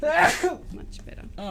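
A single sharp sneeze bursts out at the start during a casual live chat over a LEGO Star Wars Boba Fett helmet build, followed by relieved talk from the person.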